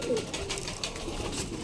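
Soft Sialkoti pigeon cooing close by in a pigeon loft, low throaty murmurs over a busy background of faint rustling and ambient noise.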